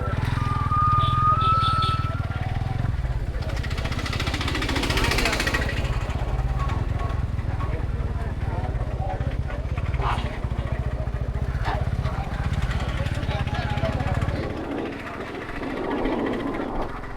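A motorcycle engine idles steadily while the bike is pushed into a free parking area on a trip to Velankanni, a continuous low putter close by with faint crowd noise and clicks around it.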